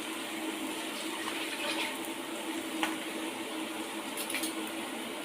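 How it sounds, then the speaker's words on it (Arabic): An electric kettle heats water in a kitchen while chicken is being sautéed, giving a steady, moderately loud rushing hiss with faint bubbling and occasional soft ticks, continuous throughout with no talking. "بسخن ميه زي ما انتم سامعين كده الكاتل شغال"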